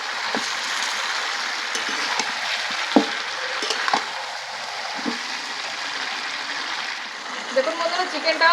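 Chicken frying in a wok for a village biryani, a steady close hiss of sizzling oil with occasional scrapes and knocks of stirring, continuing without pause for several seconds.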